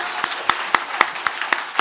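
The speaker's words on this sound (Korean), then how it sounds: "박수 한번 하겠습니다." A church congregation applauds after a sermon with a short run of evenly spaced, crisp claps, about eight in steady rhythm, and no voices.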